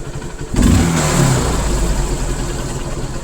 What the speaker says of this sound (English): The RPM should drop when you release the throttle.